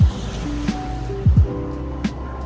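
Ocean waves wash steadily onto a beach near Seoraksan in Korea, a continuous close surf roar with a few low thumps and brief swells, heard alone without voices.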